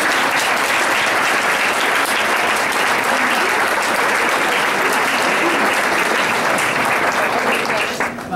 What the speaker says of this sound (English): One more round of applause for the athletes.